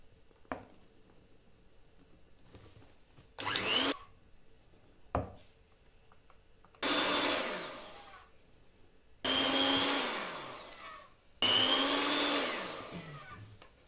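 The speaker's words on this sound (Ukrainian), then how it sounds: "Тепер поступово додаю борошно і також збиваємо." An electric hand mixer beats flour into fluffy red velvet cake batter in four long whirring bursts, loud and close, with brief clicks and quiet gaps between them.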